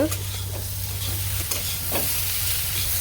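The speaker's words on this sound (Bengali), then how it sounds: "আলুটা একটু ভেজে নিব" Potatoes frying in a pan, a loud, continuous close-up sizzle with faint stirring scrapes and a low hum underneath, no speech.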